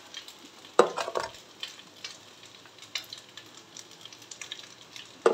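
Cooked rice stir-fried in oil like fried rice with tempering, giving a soft sizzle under intermittent scraping and stirring strokes of a spoon against the pan, close by, with a few sharper clinks.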